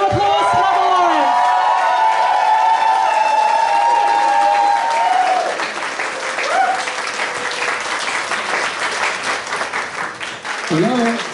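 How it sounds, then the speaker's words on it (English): A rally crowd breaks into loud applause with cheers and whoops, the clapping swelling after an opening stretch of tonal sound and then sustaining in a dense, close wash. "I just want to give a massive round of applause to Neville Lawrence."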